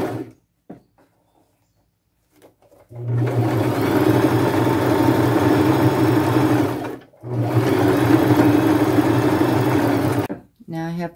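A sewing machine zigzag-stitches trim onto a boho fringe flap bag, running in two sustained loud bursts of steady mechanical whirring separated by a brief pause, with quiet handling sounds before it starts.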